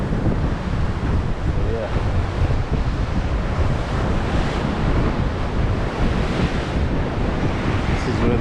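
Cold wind and breaking surf on an Atlantic Ocean beach where the cold Benguela current comes in, a steady loud roar of waves and gusting wind noise across the microphone, with a brief spoken remark over it.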